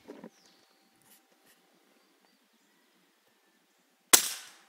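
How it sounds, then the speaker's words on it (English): A single sharp rifle shot cracks loudly at a shooting range near the end, preceded by faint handling clicks and near silence, with a short decaying tail afterward. "you can probably watch me shoot the gun"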